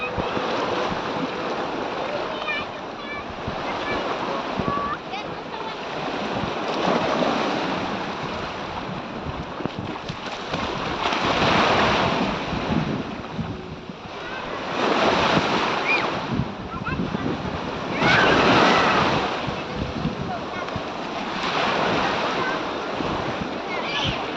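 Waves roll onto the shore on the coast of Oriental Mindoro, coming in steady repeated surges of rushing surf, with wind buffeting the microphone throughout.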